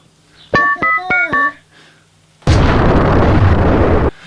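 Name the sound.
film explosions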